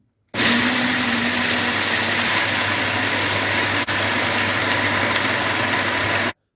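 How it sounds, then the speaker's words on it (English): A blender grinds ehuru seeds with a loud, steady motor whine that starts abruptly, runs for about six seconds with one tiny dip, and then cuts off. "Then I start blending."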